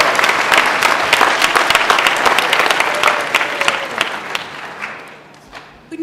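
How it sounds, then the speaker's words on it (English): Audience applause for Palo Verde High School at a student recognition ceremony, a dense, sustained round of clapping from a large crowd that fades out over the final second. "So let's give Palo Verde a round of applause."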